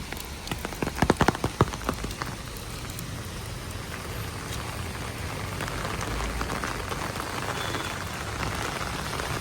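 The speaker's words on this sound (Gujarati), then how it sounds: "આવો સરસ મજાનો વરસાદ પડે છે." Heavy rain pours down steadily outdoors in Bodeli, Gujarat, a dense, even hiss of drops hitting surfaces, with a few sharper close splashes near the start, and no voices.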